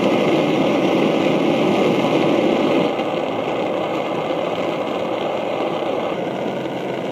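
A Primus OmniLite-Ti backpacking stove roars steadily with a dense, broadband burner hiss that drops slightly in level midway as it burns off the remaining fuel, with no talk.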